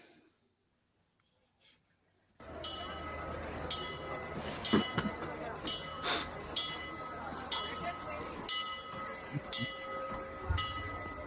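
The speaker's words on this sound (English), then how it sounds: "That's the train we went on, Chaz" The Disneyland Railroad train running: after a brief near-silent start, a sudden onset of loud rumbling wheels and track noise with a repeated rhythmic clacking and higher metallic whistling tones, continuing steadily close by.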